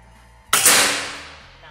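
A single loud, sharp shot from a Bocap Gorilla 500cc full-CNC PCP air rifle firing a slug: a sudden crack after a quiet moment, decaying into a short ringing tail.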